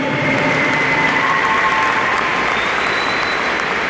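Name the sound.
applause for graduating student at ceremony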